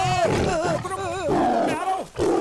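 A tiger roars in a dangerous jungle setting, a loud, close, wavering growl that runs nearly without pause.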